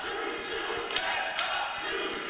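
A wrestling crowd cheers and roars at London Comic-Con during a women's match, a dense, steady wall of distant voices with a couple of brief louder swells.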